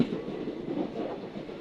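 A passenger train with sleeper, general and third AC coaches rolls along. Its dull, steady rumble is close and continuous, with no talk.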